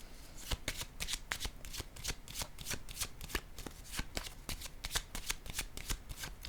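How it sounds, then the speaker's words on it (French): Tarot cards are shuffled and laid down close by, a quick run of crisp riffling snaps and flicks in an irregular rhythm, fairly quiet, with no talking. "Je vais déposer une autre carte ici."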